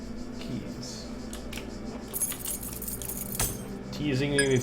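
Keys jangling in The Talos Principle puzzle game, several metallic clinks and rattles scattered across the clip over a low hum, with a person talking at times.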